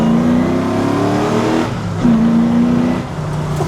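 A Toyota farm truck with a swapped-in 1UZ V8 engine revs hard and accelerates, a loud rising drone that eases briefly, then climbs again, with no voices.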